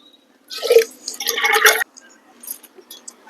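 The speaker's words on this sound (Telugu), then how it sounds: "ఇప్పుడు నీళ్ళు పోసి కడుగుదాం" Water splashes and gurgles in two short bursts as it is poured over raw tamarinds to wash them, followed by a few faint drips and trickles.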